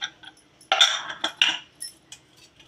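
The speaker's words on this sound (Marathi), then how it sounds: "आता मी हा कुकर उघडून बघत आहे." A metal pressure cooker lid is handled and opened in a home kitchen, giving a few sharp clanks and scrapes separated by brief pauses, close and fairly loud.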